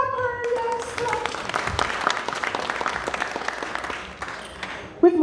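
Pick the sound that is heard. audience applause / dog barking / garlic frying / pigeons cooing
audience applause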